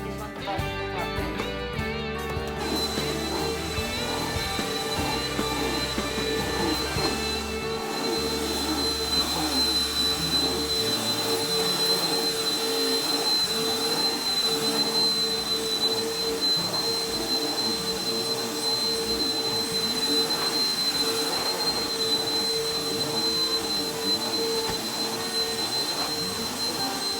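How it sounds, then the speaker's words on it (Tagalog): A vacuum cleaner runs on a carpet with a loud, steady motor roar and a high whine, holding constant for nearly half a minute close to the listener. "We gotta use this one to vacuum the carpet."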